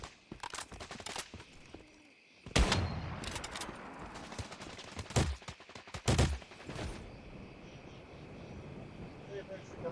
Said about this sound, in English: And start shooting all the bushes